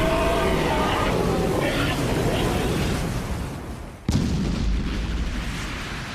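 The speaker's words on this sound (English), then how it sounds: "Time to give it a try. Water cannon!" An anime water cannon magic attack ends in a sudden sharp blast. Before it comes a loud rushing spray, which fades and then bursts forth again.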